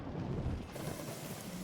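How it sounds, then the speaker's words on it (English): Rumbling thunderstorm from the video game Moonlighter, a dense low roar of thunder and rain that swells at the start, then settles into a steady wash of rain, with no voices. "And here's a big storm coming."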